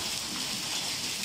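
Heavy rain with hail pours down during a storm, a dense, even hiss of falling water filling the whole moment, with no talk.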